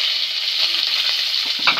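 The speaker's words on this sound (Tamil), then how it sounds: "நல்லா பொரிஞ்சிருச்சு" Hot oil sizzles and crackles steadily in a pan as mustard seeds splutter while okra poriyal is cooked. The frying noise is loud and close and is heard alone.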